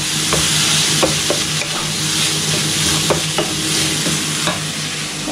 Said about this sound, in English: So I've got the chicken cooking in the pan